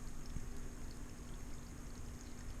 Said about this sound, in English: here's the little downspout pipe that lets the water escape down into the duck pond